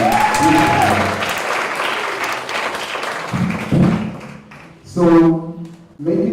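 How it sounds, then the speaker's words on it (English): Applause at a graduation ceremony, fairly loud clapping through the first few seconds, then tapering off, with thuds and a brief voice cutting in near the end. "Please give them another round of applause."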